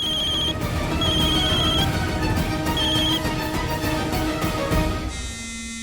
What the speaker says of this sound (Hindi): अब दादी का कॉल आ रहा है,